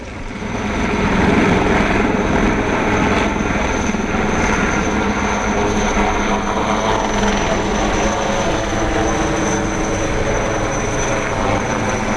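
Loud, steady roar of Indian Army military helicopters with a churning rotor thrum and high engine whine, sustained throughout without pause.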